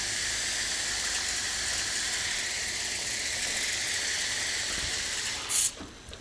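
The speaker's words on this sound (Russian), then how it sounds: "Икру заливаем холодной водой." Cold water pours under strong pressure over fish roe in a bowl, a continuous loud hissing rush that ends abruptly near the finish, with no talk.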